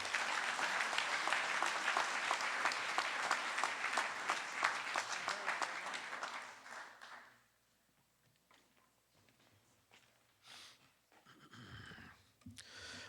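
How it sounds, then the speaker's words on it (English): Audience applause at a spring varsity athletic awards ceremony, dense clapping for about six seconds that fades out, followed by near-silence with scattered faint noises. "Please give a huge round of applause for Miss Millie Chopsky."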